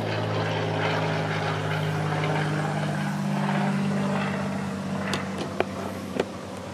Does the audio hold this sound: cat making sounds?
no